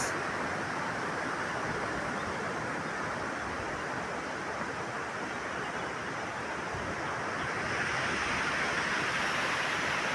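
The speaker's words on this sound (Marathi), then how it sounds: "आवाज येत असेल तुमच्यापर्यंत पोचत असेल लाटांचा आवाज" A steady, distant roar of sea waves washing ashore, a continuous broad rush with no voices.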